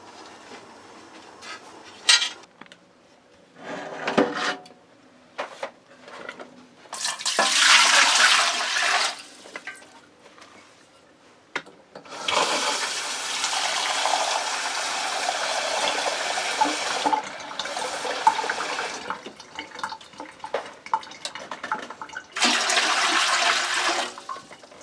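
Tap water gushes into a pressure canner being filled with three quarts, coming in several loud, splashing bursts separated by short pauses, close by and with no talking.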